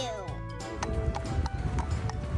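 A horse walks with steady clopping hooves close by, a brief neigh-like call at the start, while people talk over it.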